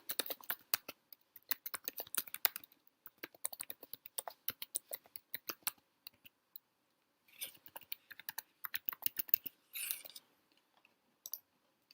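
Quick bursts of typing on a computer keyboard come as irregular runs of light, close key clicks separated by brief pauses.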